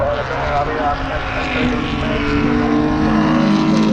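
A historic 2.5-litre Formula 1 racing car engine roars during qualifying at Donington Park, a loud sustained drone that rises in pitch as the car passes, with wind buffeting and a commentator talking over it.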